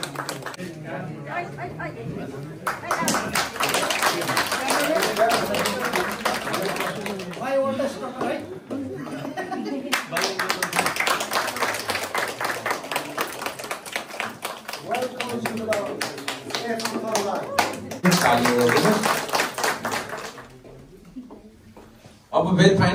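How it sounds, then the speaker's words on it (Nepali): Guests at a family get-together in the UK clap in steady rhythmic bursts amid lively chatter, the clapping loud and near, pausing briefly before rising again, with people talking throughout. "ताली बजाइदिनुहोस्।"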